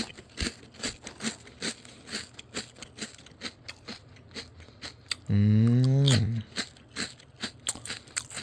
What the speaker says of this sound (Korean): 굉장히 바삭바삭합니다